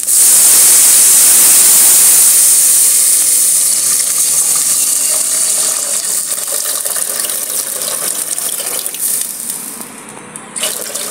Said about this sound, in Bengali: মশলাটা বেশ নাড়াচাড়া করার পর গন্ধ ছাড়লে দিয়ে দেব জল।